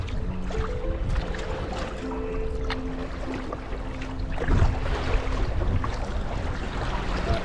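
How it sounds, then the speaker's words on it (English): Wind and choppy waves on a lake buffet a solo canoe, a steady close wash of water and gusty wind rumble with occasional slaps against the hull, with no talking. "a lot windier and wavier than I wish"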